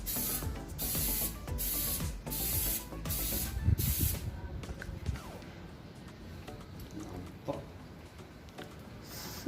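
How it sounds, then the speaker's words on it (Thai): A spray gun hisses coating onto a rotating fishing rod, with several loud bursts in quick succession followed by a softer, steadier spray that carries on to the end. "ฉีดเคลือบกัน ต้องไล่ไปเรื่อยๆ หมุนแล้วก็หมุนคันเบ็ดแล้วก็ไล่ฉีดไปเรื่อยๆ"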